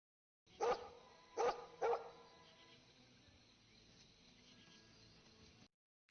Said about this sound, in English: Some random dog running around.